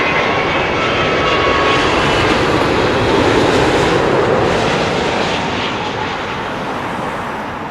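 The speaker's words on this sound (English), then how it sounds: "We have the 787 British Airways from Hyderabad" A British Airways Boeing 787 from Hyderabad roars past at London Heathrow, a loud, close jet engine rush that peaks midway and then slowly fades, alone without voices.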